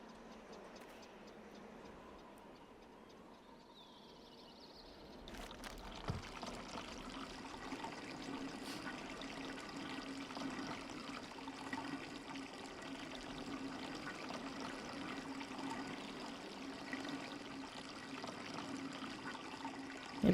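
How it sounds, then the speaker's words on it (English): Water pouring onto a tree in the video game Riven, starting after a quiet opening as a steady, broad rushing stream that continues evenly to the end. "it's definitely watering the tree"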